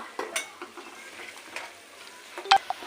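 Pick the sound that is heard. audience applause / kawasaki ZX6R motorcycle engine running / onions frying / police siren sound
onions frying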